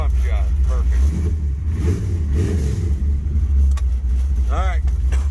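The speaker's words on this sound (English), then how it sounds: "let's get this old beast going" A 1973 Plymouth Satellite with a 451 stroker engine runs with a deep, loud rumble close by and a few revs, while voices talk over it.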